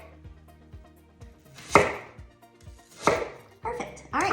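A knife slices around the seeds of an apple on a cutting board, giving three or four sharp, fairly close chops spaced about a second apart over faint background clatter.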